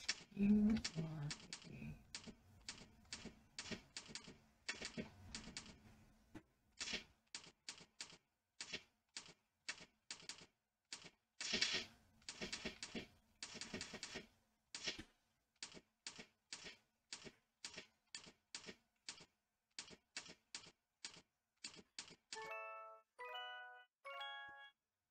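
Fast typing on a computer keyboard during a Typing.com typing test, close crisp key clicks in rapid bursts separated by short pauses, ending with a few bright chime-like tones.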